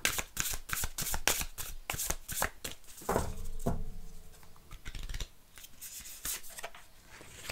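Oracle cards are shuffled close up in a rapid run of crisp riffling slaps, then a softer stretch of sliding and rubbing card sounds.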